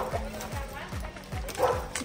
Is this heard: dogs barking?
yes